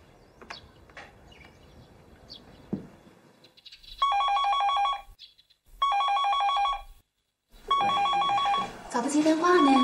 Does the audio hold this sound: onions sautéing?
no